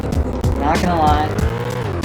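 A Bugatti hypercar's engine revs and whines in the video game Car Dealership Tycoon, with rising pitch sweeps and tire squeal, loud and close under a talking voice.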